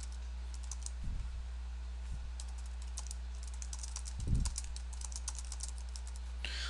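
Keystrokes on a computer keyboard come in light, irregular bursts through most of the clip. Two louder thumps stand out against a steady low electrical hum, and no one speaks.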